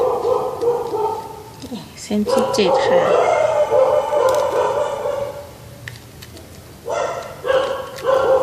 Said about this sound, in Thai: มีหมาเห่าด้วย